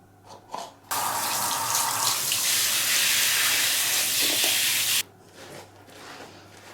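A strong, steady rush of running water while bathing a dog starts abruptly, pours continuously for about four seconds, then cuts off, leaving quieter splashes and rubbing.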